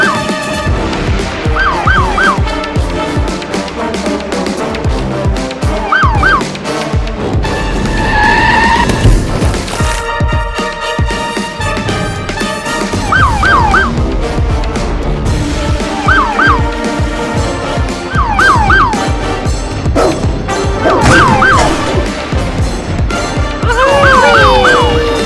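Police car siren in a stop-motion Lego film scene, wailing up and down repeatedly over a loud, busy mix of car engines, skidding tyres and music, recurring in several bursts.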